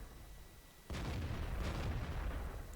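In the World of Tanks video game, a tank shell strikes enemy armor with a sudden loud blast that cuts in after a moment of low rumble and then rolls on as a sustained, booming roar.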